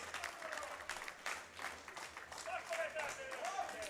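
A crowd at a women's heavyweight classic powerlifting championship claps and cheers for a lifter before her deadlift, a fairly faint, uneven mix of applause and calls with a commentator talking over it.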